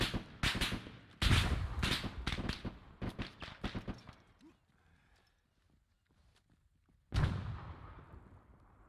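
A frag grenade explosion in the military shooter ArmA 3: a sharp, loud blast strikes after a stretch of quieter gunfire and clatter, with close rapid shots earlier in the sequence.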